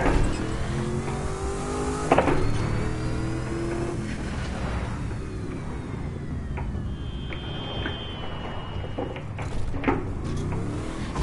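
Engine of a roughly 1,000-horsepower car in the racing video game The Crew 2, revving hard and droning steadily with rising and falling pitch throughout, loud and close, with occasional sharp transient knocks and no talk.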